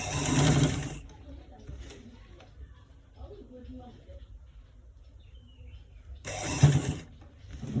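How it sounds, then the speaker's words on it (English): A sewing machine stitching a V-neck runs in two loud, fast mechanical bursts at the start and end, separated by a quieter stretch with faint background sounds. "Just like we are stitching it right now, that's how you stitch it"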